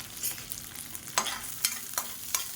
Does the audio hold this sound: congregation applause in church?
no